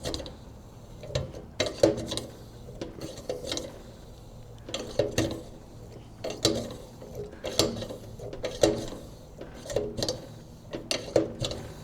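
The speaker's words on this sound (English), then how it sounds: "you got to give it a bunch of pumps because the seal is worn out on here" A worn-seal hand pump on an antique 1912 blowtorch is worked repeatedly, giving rhythmic, close squeaky metallic strokes and clicks with no talk over them.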